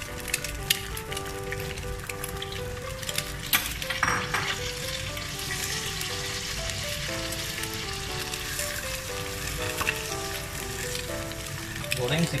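Ikan bilis (small anchovies) frying in oil with garlic in a pan, a continuous crackling sizzle with scraping stirs and clinks throughout, close and steady; music plays softly underneath.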